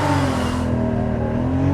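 A 2013 Porsche Boxster S launches hard under launch control, its engine giving a short, loud, steady roar up close with no voices.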